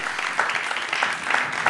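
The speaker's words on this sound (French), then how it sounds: "On peut les applaudir." Audience applause after a talk on managerial innovation in the public sector, a steady patter of many hands clapping at moderate volume, filling the room briefly with no voices.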